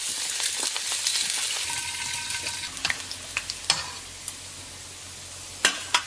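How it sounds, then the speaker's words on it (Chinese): Pork belly goes into a hot wok and sizzles steadily, with scattered sharp clinks and scrapes of a utensil against the metal. "然后五花下到锅中"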